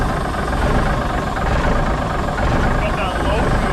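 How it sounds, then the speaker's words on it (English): A 1957 Hayes HD truck engine at low idle, a loud, steady low rumble close by, with a voice talking over it. "The low idle is ridiculous"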